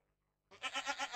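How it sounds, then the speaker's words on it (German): A Minecraft goat lets out one short, wavering bleat that starts abruptly after a moment of silence and pulses several times before cutting off. "blöde Ziege, frisst hier alles wieder weg hier"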